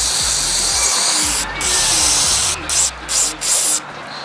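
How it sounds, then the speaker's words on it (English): Aerosol cleaner hisses in steady bursts onto the electrode of a gas emergency generator's spark plug, close and loud, with short pauses breaking the spray near the end. "we'll spray it one more time just to get that grit off"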